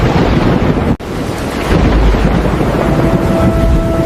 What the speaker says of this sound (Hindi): काले बादल आ गए हैं, तेज बारिश हो रही है